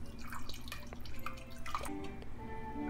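Ginger makgeolli, a homebrewed Korean rice wine, drips and trickles through a strainer in a kitchen, giving a run of small irregular plinks and splashes at close range with no talking.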